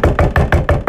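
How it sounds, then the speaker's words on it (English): Knocking on a bathroom door, six quick hard raps in a steady rhythm within one second, loud and close, with no talking over it. "Stop knocking."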